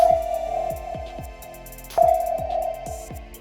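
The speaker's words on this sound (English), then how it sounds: "active sonar works by playing the sound that we've all heard in the movies, the classic" A steady tonal sonar ping sounds twice, about two seconds apart, over repeated low descending throbbing pulses and a background hum, like a classic movie submarine sonar effect.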